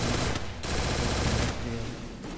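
Dense, loud machine gun bursts from an online shooter game, rapid continuous fire with a short pause between two volleys, all at close range.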